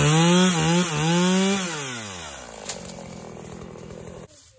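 A chainsaw cuts through maple tree limbs outdoors, its engine revving loud and close and then settling into a steady, slightly rougher cutting drone, with a brief sharp knock near the end.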